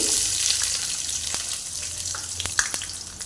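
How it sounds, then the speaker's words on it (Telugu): Onions frying in a pan with whole garam masala for a spinach chicken curry, a continuous close sizzle with a few sharper crackles and pops toward the end. "ఇది కొద్దిగా ఫ్రై అవ్వాలి ఇప్పుడు ఇందులోనే ఆనియన్స్ వేసుకుందామండి"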